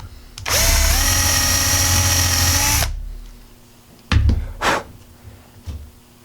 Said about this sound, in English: you can drill it into the hole